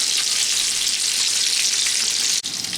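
Lamb chops fry in a CeraPan ceramic pan with a loud, steady, hissing sizzle that continues throughout with only a brief dip near the end, no voices.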